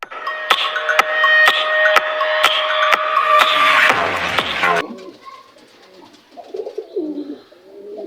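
Pet pigeons coo steadily up close, with repeated sharp clicks or taps over the first half and quieter cooing and soft murmurs after.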